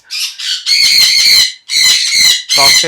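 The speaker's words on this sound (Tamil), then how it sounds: "இது black gap கன்னியூர் and yellow sided and son கன்னியூர்" Black-capped, yellow-sided and sun conures, along with cockatiels in an aviary, give loud, close, harsh squawks in four or five rapid bursts separated by short gaps, with no talking.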